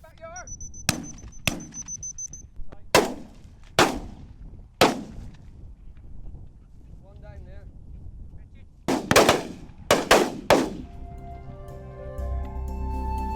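Shotguns fire at snipe on a grouse shoot in Guernsey, with several sharp, loud reports spaced across the scene, including a quick cluster of shots late on, and a faint bird call in the open air between them.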